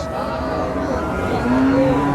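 A double-body Friesian cow at a cattle market moos loudly and steadily near the listener, a long low drawn-out call rising toward the end over a busy background.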